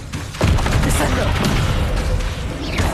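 A Descendo spell cast in the video game Hogwarts Legacy, a heavy booming slam that hits loud and close, then a dense rumbling crash and clatter that carries on for a few seconds.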